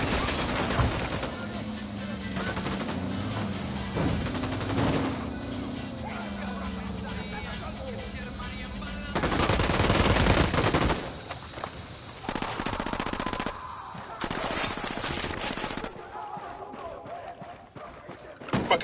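Gunfire in a first-person shooter game, with long bursts of machine-gun fire and scattered rifle shots, some loud and close and others farther off, mixed with game engine rumble and occasional speech.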